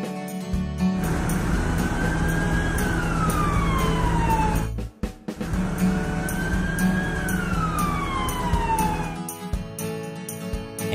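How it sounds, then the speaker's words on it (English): An ambulance siren in an animated cartoon wails in two long rising-then-falling sweeps over a steady engine hum, loud and close, with a brief cut between the cycles. "Ambulance."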